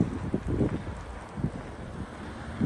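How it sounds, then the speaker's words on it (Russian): Strong gusting wind during a heavy snowstorm on a busy city boulevard, a broad steady roar of wind buffeting the microphone with a few louder gusts rising and falling, and no one speaking. "ветер периодически очень сильный"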